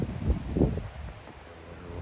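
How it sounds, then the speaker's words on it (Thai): Strong gusty wind buffeting the microphone near the sea, loud low rumbling bursts that ease into a steady blustery roar. "ลมค่อนข้างแรงครับ ค่อนข้างแรง ถือว่าแรงเลยครับ"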